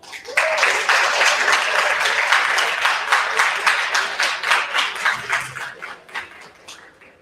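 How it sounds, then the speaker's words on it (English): An audience at an awards gala and fundraiser breaks into sustained applause, with dense clapping that starts abruptly, stays steady for several seconds, then thins out and fades. "Give her a round of applause."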